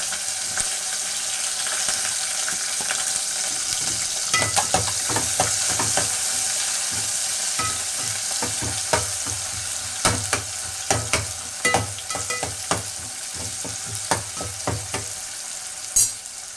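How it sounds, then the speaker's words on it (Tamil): Onions and green chillies fry in hot oil for veg biryani, a constant sizzle that grows busier with clattering stirring strokes from a few seconds in, near and without speech. "இப்போ இந்த 2 மிளகாயை போட்டுக்கலாம், பச்சை மிளகாய். அது கூட இந்த 2 வெங்காயம் கட் பண்ணி வச்சாங்க,"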